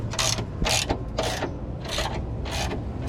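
Ratchet tightening sway bar bolts on a 1JZ-swapped S14, six quick bursts of clicking in an uneven rhythm, close and fairly quiet.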